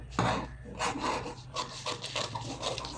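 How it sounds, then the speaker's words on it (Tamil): A paper sleeve pattern is cut with scissors in a series of close, rasping snips and rustles, several in quick succession over about three seconds. "இப்போ இதை நான் கட் பண்ணிக்கிறேன்."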